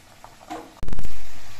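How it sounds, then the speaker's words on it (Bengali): Murali or finger gaja sweets deep-frying in hot oil: after a quiet moment, a sudden loud, dense sizzle bursts up and carries on steadily as the dough hits the oil. "এই একইভাবে সবগুলো গজাই আমি ভেজে নেব।"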